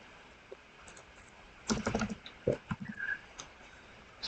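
Typing on a computer keyboard, soft, quick key clicks in a brief cluster near the middle with a few isolated taps around it, quiet and close, with no talk.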